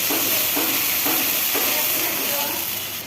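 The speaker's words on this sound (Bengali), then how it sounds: "আমি এতগুলো পেঁয়াজ দিয়ে দিচ্ছি, আর আদা রসুন বাটা দিয়ে দিচ্ছি, আর লবণ দিয়ে দিচ্ছি।" Onions, ginger-garlic paste and salt fry in a pan as the base for a hilsa fish curry, giving a steady, close, broad sizzling hiss that fades slightly at the end.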